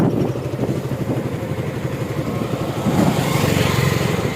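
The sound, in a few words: motorcycle riding over bridge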